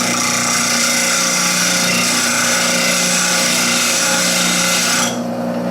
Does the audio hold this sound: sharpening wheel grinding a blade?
yes